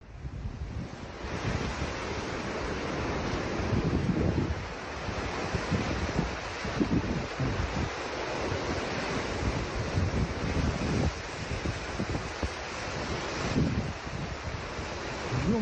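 Powerful tsunami surf pounding a peninsula coastline, a loud continuous roar of crashing water with heavy wind buffeting the microphone and surges rising and falling throughout.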